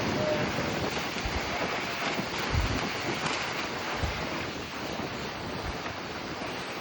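Stormy wind and rain lash a spot in Kerry, a loud, unbroken roar of gusts buffeting close by with blustery surges and no voices.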